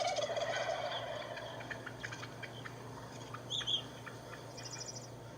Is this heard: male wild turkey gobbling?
yes